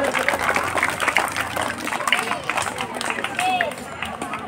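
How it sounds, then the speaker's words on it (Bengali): An audience at an international karate championship in Raidighi claps in a rapid, crackling burst of applause, a steady crowd sound with some babble mixed in. "একটু জোরে হাততালি দেবেন।"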